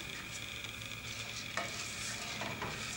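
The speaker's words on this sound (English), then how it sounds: "just mix it a little bit," A spoon stirs rice in a pot over low heat, giving a soft scraping and faint sizzling against the pot's bottom, with a brief clatter partway through and no voices.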